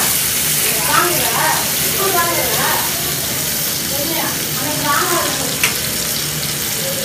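Onions, curry leaves, mustard seeds and tomatoes sautéing in oil in a village kitchen give a steady, close sizzle and spatter throughout, with voices talking over it.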